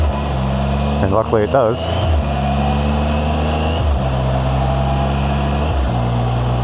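Can-Am Spyder RT SE6 engine droning loud and steady while riding, with pitch stepping down at each upshift between rising stretches, under a rider's voice talking over it.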